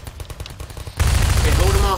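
An automated turret in the Half-Life 2 Episode Two video game erupting into a sudden loud burst of rapid gunfire after a second of quieter clatter, the shots merging into a dense continuous roar.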